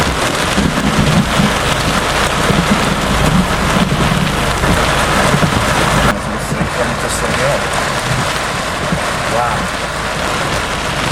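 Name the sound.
heavy rain with thunder during a Florida storm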